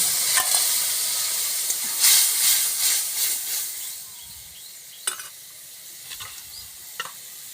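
Onions with a ground paste of mustard, green chilli, ginger and garlic plus turmeric and chilli powder sizzle steadily in a pan, a loud broadband hiss broken by sharp scraping clicks of stirring, with no talking.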